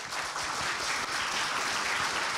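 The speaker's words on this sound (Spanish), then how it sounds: "Se han ganado aplausos hoy nuestros panelistas." A panel audience claps for the speakers, a dense, even wash of applause that carries steadily through the whole stretch with no voices over it.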